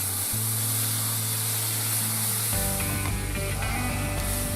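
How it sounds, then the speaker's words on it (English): Balsamic vinegar hits a hot frying pan to deglaze it and bursts into a loud, steady sizzle and hiss, with a low hum underneath and a shift in tone partway through. "We're going to deglaze our frying pan with balsamic vinegar, 3 to 4 tablespoons."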